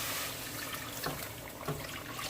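Water being poured from a container into a cooking pot for a curry goat dish, a short continuous splashing stream with a couple of brief sloshes, close and moderately loud.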